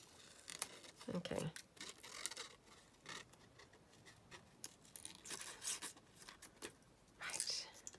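Scissors snip slowly through paper to cut out a paper paintbrush shape, with soft, faint cutting and rubbing sounds close by and a quiet voice speaking briefly.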